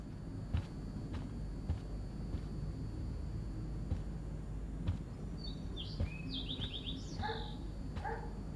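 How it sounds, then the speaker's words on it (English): Birds chirp in the video game Life Is Strange: a few bright, quick twittering calls arrive in the latter half over a low, steady ambient rumble with occasional soft thumps. "Poor birds."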